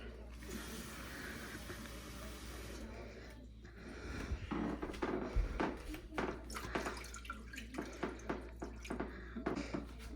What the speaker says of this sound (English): You pour some water in the bottom of the pan.